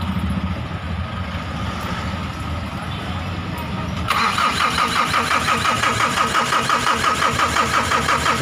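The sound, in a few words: Mitsubishi L300 van diesel engine starting and running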